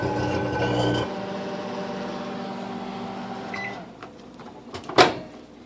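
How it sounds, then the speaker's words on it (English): A microwave oven runs with a grape inside, its steady hum with harmonic tones shifting partway through, then a sharp crackling pop near the end as the grape sparks. "That was the grape in the microwave thing that I was talking about the other day."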